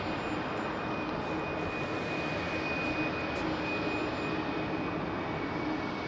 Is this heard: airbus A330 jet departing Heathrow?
yes